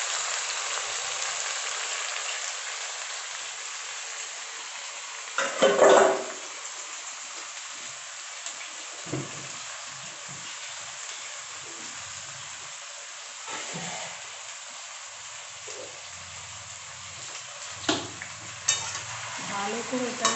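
Food fries and is stirred in a wok, with a constant sizzling hiss broken by scraping and clattering strokes, one loud clack standing out, all heard close up.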